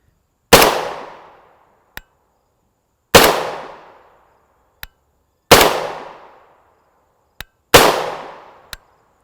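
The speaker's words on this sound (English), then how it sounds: "We probably should start shooting." Suppressed 300 AAC Blackout (7.62x35mm) rifle firing 200gr Sellier and Bellot FMJ rounds: four sharp, evenly spaced shots about two seconds apart, each followed by a quick faint click, with nothing else heard.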